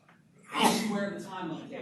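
A single sharp sneeze bursts out in a lecture classroom, close and loud, with a teacher's voice talking through and around it.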